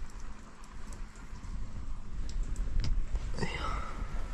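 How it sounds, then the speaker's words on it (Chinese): Rain patters steadily on the roof of a camper van, heard from inside as a soft continuous hiss with scattered drops and a few sharper taps and knocks. "我要听着雨声入睡了。"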